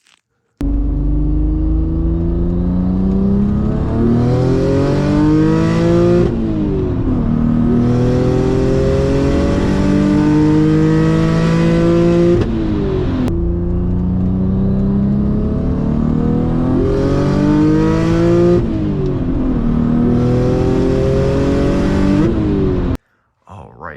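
An Audi B5 S4 with a single-turbo setup drives under load, its engine revving up through gears in two long sweeping pulls with brief dips at shifts, loud and close, with turbo whoosh over the drone.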